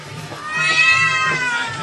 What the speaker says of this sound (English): It's Caesar's house cat.